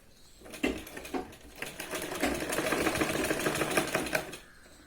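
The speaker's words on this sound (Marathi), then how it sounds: "शिलाईवाल्या पॉईंटपर्यंत शिलाई लावून घ्यायची आपल्याला" An electric sewing machine stitching fabric for a Punjabi top, with two short bursts of needle chatter followed by a longer, steady run of rapid mechanical stitching, close and fairly loud.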